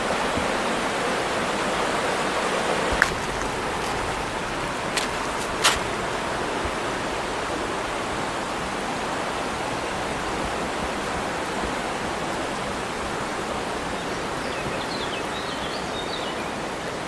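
Continuous rushing of flowing water, steady and fairly close, with a few faint clicks early on.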